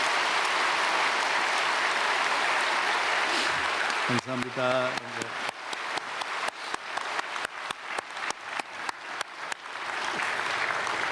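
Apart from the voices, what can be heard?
congregation applauding in church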